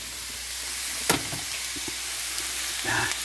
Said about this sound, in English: as these sausages have been boiled and fried, I just squeeze them hot